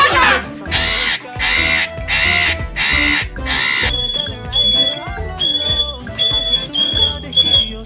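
A pet parrot squawks and whistles in loud, repeated bursts, with shrill broken calls and talking-bird chatter filling the room close up.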